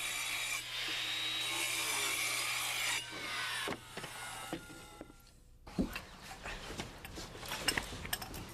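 A hand saw cuts through a wooden floorboard around pipe positions, rasping strokes close and loud at first, then giving way to scattered knocks and scraping of wood being handled.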